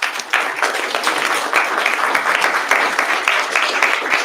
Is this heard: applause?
yes